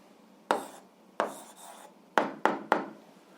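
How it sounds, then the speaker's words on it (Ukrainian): Pen writing an algebra answer on paper or a board, five short close scratchy strokes, the last three quick in succession, with no talk over them. "записуємо зараз відповідь, пишемо відповідь"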